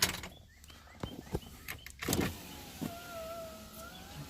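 The power window motor of a 2003–2006 Chevrolet Silverado runs with a steady whirring drone after a few clicks and thunks of the switch and door, heard close and fairly quiet.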